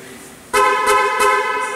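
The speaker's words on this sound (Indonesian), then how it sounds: "saya bisa membunyikan horn sama flash" A car horn sounded remotely from a GPS phone app, starting suddenly after a short quiet moment and sounding as a loud, steady tone with three or four pulsing honks, close by.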